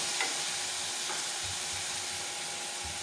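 Tomato masala with spices for spicy aloo ki katliyan fries in a pan, a constant loud sizzle and hiss broken by a few soft scraping stirs, with no voices.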